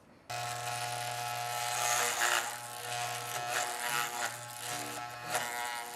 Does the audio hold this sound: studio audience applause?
no